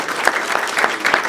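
Audience applause at a Taste of Asia company dinner event hosted by Nicor Gas, a steady wash of clapping from a room of people with a few louder peaks, brief and continuous.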